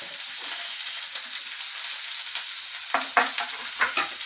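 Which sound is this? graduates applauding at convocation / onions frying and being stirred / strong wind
onions frying and being stirred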